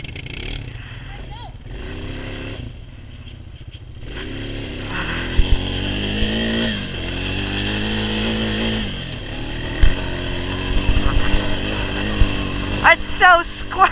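A four-wheeler ATV engine revs and drones steadily up close, climbing and settling in pitch as the rider shifts, with a voice talking over the motor.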